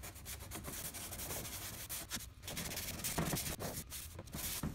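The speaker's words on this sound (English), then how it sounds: "This deeper gouge down here needs a little more sanding" Sandpaper is rubbed steadily back and forth over a deep gouge in a scratched plastic car bumper, making a close, continuous scratchy rasping with brief pauses between strokes.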